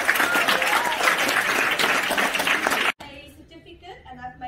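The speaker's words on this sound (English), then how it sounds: "Can you please applaud all my teachers?" An audience at a World Teachers' Day event applauds the teachers, with loud, dense clapping for about three seconds that cuts off abruptly, followed by quieter room sound.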